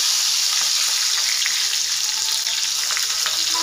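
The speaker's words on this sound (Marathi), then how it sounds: "तर मी सगळ्यात पहिले कांदा टाकते." Onion fries in hot oil in a kadhai, giving a dense, even, bright hiss that holds steady throughout, with no talking.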